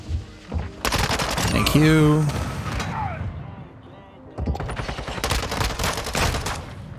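A Broadside shotgun firing in a Call of Duty match, loud repeated blasts in two clusters with a quieter gap between, mixed with game effects and a brief spoken voice.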